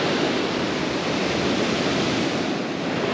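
Ocean surf breaks steadily onto a beach at sunset with a rising tide, a loud, continuous wash of rushing waves and wind that fills the whole moment without pause.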